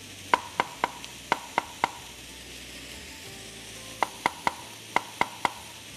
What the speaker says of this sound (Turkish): İri iri doğrayalım.